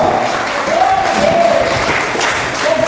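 A church congregation claps together in a steady, dense wash of applause, with a sung or sustained voice line drifting over the clapping throughout.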